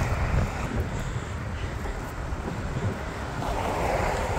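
Strong wind roars steadily across a microphone on a bridge, a broad continuous rushing with low buffeting gusts throughout, loud and close with no voices.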